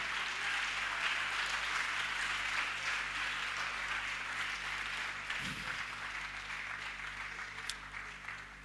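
A church congregation applauds and cheers in praise, a dense continuous wash of clapping that holds steady for several seconds, moderately loud and filling the room, with a brief low thump midway.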